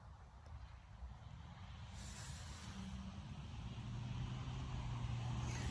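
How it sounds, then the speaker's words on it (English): Cars passing on a road at night near Cannock Chase, a steady low rumble of engines and tyres that swells gradually louder as a vehicle approaches, no talking. "There's a lot of cars driving up and down"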